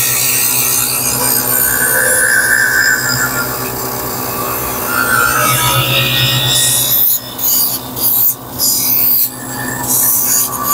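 An optical lens edging machine grinds a lens with a continuous rasping, whirring sound that turns choppy and intermittent toward the end, close up and with no voices.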